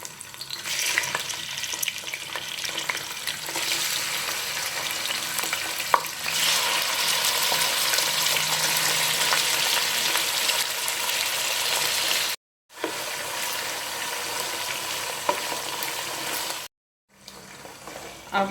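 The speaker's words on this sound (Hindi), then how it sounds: "अब इसके साथ ही हम ये मटन भी इसमें डाल देंगे" Mutton pieces sizzle and fry steadily in a pot with cinnamon, bay leaves and star anise, loud continuous crackle with occasional stirring, broken by two brief silences; no talking.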